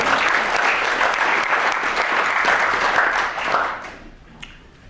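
An audience applauds a pair of nominated students at an awards introduction, a dense steady clapping that fades out over the final second, leaving faint scattered claps.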